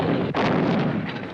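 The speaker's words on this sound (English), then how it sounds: "This makes the FH-77 an extremely powerful," An FH-77 self-propelled artillery gun fires a single loud, sharp blast that rolls into a long, heavy rumbling decay, with no voices.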